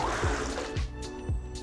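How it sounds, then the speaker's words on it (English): Water in the video game Foundry gives a continuous, trickling and splashing wash with soft rhythmic surges, moderately faint and with no voices over it. "The sound effect for this water is horrifying."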